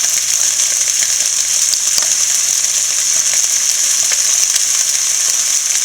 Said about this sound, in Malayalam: ഇനി ഇതിൻ്റെ അകത്തോട്ട് നമുക്ക് വേവ് കൂടുതലുള്ള ബീൻസും ക്യാരറ്റും കൂടി ഇട്ട് കൊടുക്കാം.